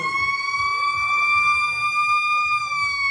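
A fire engine siren wails steadily at a street parade with a beach party theme, loud and sustained with strong rising tones, while crowd noise and voices murmur underneath.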